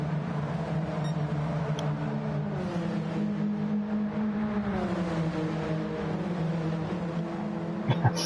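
Race cars in a GT1 racing video game at Road Atlanta, engines droning and shifting pitch continuously with tyre squeal running in the background, steady and loud throughout with no talk.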